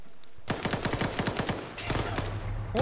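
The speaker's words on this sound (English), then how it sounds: "They're shooting on the rear." Arma 3 gunfire cracks out in a rapid automatic burst of about a dozen evenly spaced shots, close and sharp, followed by a continuing rumble and a brief voice at the end.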